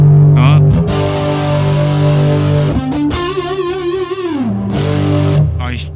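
An electric guitar run through a VOX StompLab IIG multi-effects unit: a loud, distorted, sustained tone with held chords and bent notes that swell and slide, and no one speaking over it.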